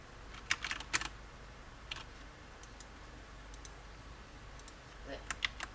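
Typing on a computer keyboard during a maths lesson, with sparse, quiet key clicks in small bursts and scattered single taps against a faint background hum, fairly close but soft.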